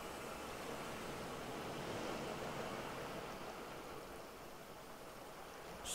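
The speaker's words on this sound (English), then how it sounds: "Strong waves." Strong ocean waves roll and wash continuously in the survival game Raft, a steady broadband surf roar that stays loud and unbroken throughout, with no voices.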